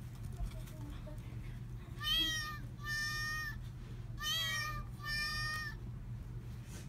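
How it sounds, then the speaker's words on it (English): A squeezed plush cat keychain gives a squeaky toy-like meow four times in short bursts, high and nasal, over a steady low hum. "this plush cat like keychain, and when you squeeze it, it actually make noise"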